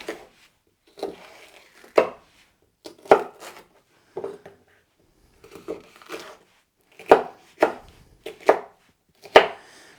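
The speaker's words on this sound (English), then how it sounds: "First I'll cut nice long strips" A knife chops food into long strips on a cutting board, about a dozen separate crisp thuds spread unevenly over ten seconds, close and clear with no talking.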